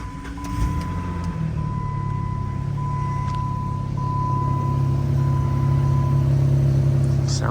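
A Jeep Grand Cherokee with a bad engine, repaired and running again, heard from inside the cabin while driving: a steady, moderately loud low engine drone with road noise and a thin constant whine above it.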